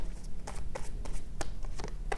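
Tarot cards being shuffled by hand, a rapid series of soft riffling slaps and flicks in an uneven rhythm, close and fairly quiet.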